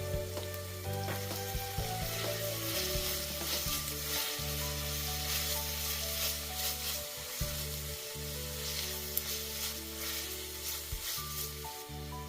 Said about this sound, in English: Add the garlic, cooking until fragrant.